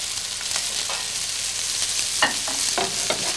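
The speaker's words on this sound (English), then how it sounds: "put the onions in and be sure not to have it on a high heat" Onions sauté gently with sugar in a pan on low heat, giving a steady, fairly loud sizzle broken by a few sharp stirring scrapes.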